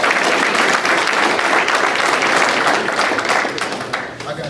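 A room full of people at a company meeting bursts into dense, loud applause that holds steady and then starts to thin out at the end.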